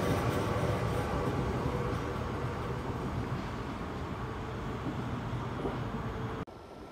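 A train departs Den Haag Centraal station: a loud, steady rumble of wheels and carriages rolling close by, broad and continuous throughout, then cutting off abruptly near the end.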